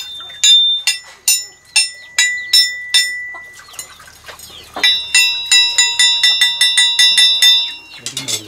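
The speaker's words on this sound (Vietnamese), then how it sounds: "Cầm này kêu như chuông luôn." A steel knife blade is struck again and again and rings like a bell, bright, close metallic tones with decaying resonance, slow single strikes first and then a faster run of rapid taps.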